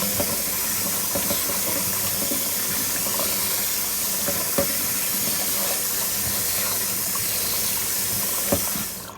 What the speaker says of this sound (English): Now I'm just going to go and rinse all this.